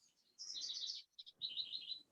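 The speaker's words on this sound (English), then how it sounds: "Who's got the birds?" Small birds chirp in two quick bursts of high, rapid twittering separated by a brief pause, faint and fairly close.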